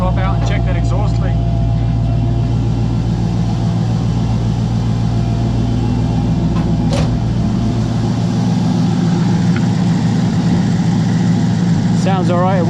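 A DALE30 engine idles steadily at low revs with an exhaust leak from a welded header, giving a continuous low rumble with ticking puffs, a few sharper clicks and some background noise.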